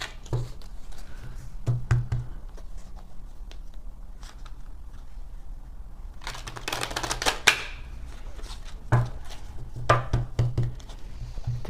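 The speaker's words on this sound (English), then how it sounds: "we're gonna do 3 shuffles and a cut" Tarot cards are shuffled by hand, giving bursts of quick riffling and flicking with soft taps and clicks between them, close and moderately loud, and no talking.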